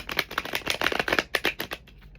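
Tarot cards are shuffled by hand in a quick series of crisp riffling bursts, close and clear, fading out near the end.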